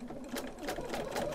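A sewing machine stitches log cabin quilt blocks from scrap fabric, a quick steady mechanical whirring of rapid needle strokes, close and fairly quiet, with no talking.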